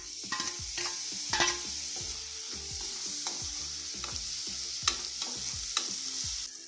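Onion and tomato frying in a pan for kara kulambu, with a soft steady sizzle under repeated scraping stirs of a spoon against the pan, close and fairly quiet.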